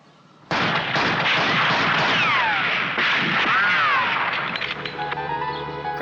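Gunfire in a scene from a Doctor Who TV serial: a sudden loud burst opens a dense barrage of shots and blasts, with whistling, sweeping tones threaded through, before it thins out near the end.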